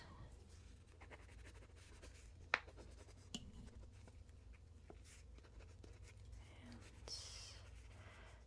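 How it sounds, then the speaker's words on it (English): A pen writes on a paper receipt in a close, quiet soft-spoken grocery store roleplay, with soft scratchy strokes, a couple of small taps and a whispered voice. "Let me just write down what you purchased."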